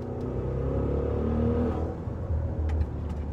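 2020 Maserati Levante Trofeo with twin-turbo 3.8-liter V8 accelerating hard, a dense low engine growl and rising rumble heard from inside, loud and steady for a few seconds with no talking.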